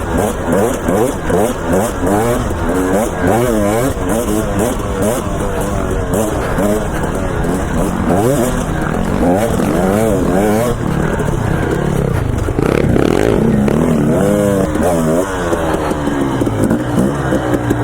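Dirt bike engine while riding, loud and close, with constant revving that rises and falls through gear changes and a wind-buffeted mic, while a rider talks over it throughout.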